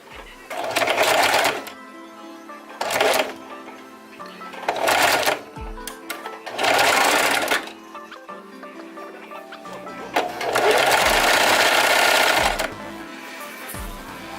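Sewing machine stitching fabric to lengthen a short dress, running in about six loud, close bursts of one to two seconds each, separated by brief pauses with handling noise.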